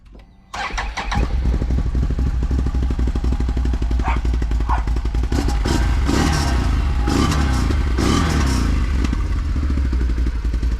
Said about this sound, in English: Can-Am suggests that you start the four-wheeler and you get it up to operating temperature